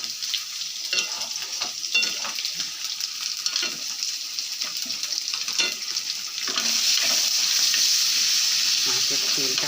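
Food frying and being stirred in a pan of hot oil while making a fig (dumur) dalna. A steady close sizzle runs throughout with occasional stirring scrapes, and it grows louder and fuller in the last few seconds. No one speaks.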